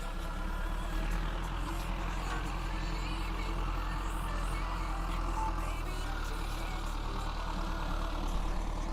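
A farm tractor used for hay gathering runs steadily throughout with a constant low engine rumble, close and unbroken, with faint voices in the background.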